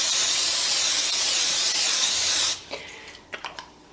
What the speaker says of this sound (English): I'm actually using olive oil spray